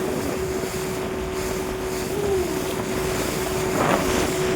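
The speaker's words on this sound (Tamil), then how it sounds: "ஒரு குட்டி போட்டு வந்துட்டு இருக்கு பாருங்க" A small motorboat engine drones steadily at a distance in the Maldives, a constant hum over wind and water noise, with no one speaking.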